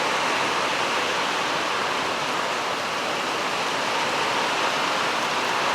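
Heavy monsoon rain pours down in Goa, a dense, constant roar of water that fills the whole scene evenly with no let-up and no voices.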